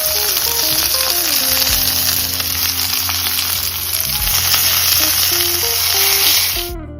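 Tomato paste sizzling in a hot pan alongside short ribs, a loud continuous frying hiss with occasional stirring clatter, close and steady before cutting off at the end.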